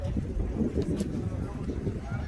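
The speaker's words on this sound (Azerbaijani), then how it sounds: "Bu da maşının qabaq səsi." A car's engine idles with a low steady rumble at the front of the vehicle at a used car market, heard mostly beneath close conversation.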